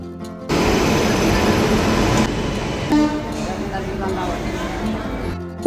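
A train at Pune railway station: a loud, steady rumbling roar of rolling stock fills the platform, shifting in tone midway, with a busy crowd murmuring beneath it.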